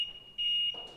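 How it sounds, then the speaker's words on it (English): A household smoke alarm gives a short, shrill electronic beep, a steady high tone that swells louder in one brief burst before fading out. "That's the sound of our smoke alarm right there"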